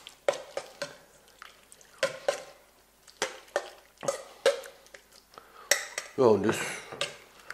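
A spoon clinks and scrapes against a pot while an asparagus salad vegetable dressing is stirred, in sharp irregular taps, with a brief sizzle-like swirl near the end and a few spoken words.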